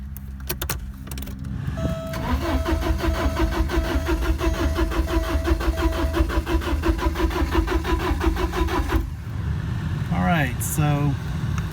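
A 1987 Porsche 924S engine cranks with the starter, fires and settles into a steady, rhythmic idle, close and loud; a voice speaks near the end over the running engine.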